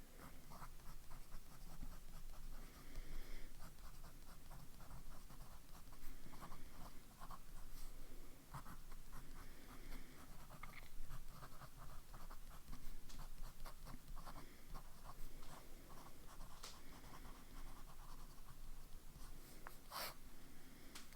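A fine-nib Lamy Al-Star fountain pen scratches across paper in steady, close strokes, with soft rhythmic scraping and brief pauses between words, quiet and alone without talk.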